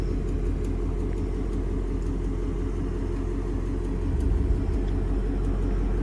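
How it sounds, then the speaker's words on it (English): A 2024 Ford Mustang GT Premium V8 with its exhaust resonator deleted idles at cold start, a loud, steady, throbbing low rumble that holds even for several seconds and swells slightly near the end. "On cold start, this exhaust is pretty loud with the resonator delete."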